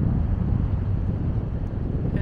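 Strong, steady wind buffeting the microphone on Sandpoint Beach in Michigan's Upper Peninsula, a constant low roar that fills the whole stretch with no break.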